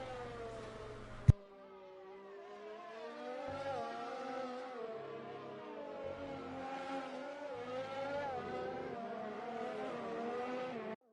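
Formula 1 race cars in a video game at the French Grand Prix on a wet, rain-slick track, engines whining and revving steadily with rising and falling pitch, one sharp click near the start, no voices.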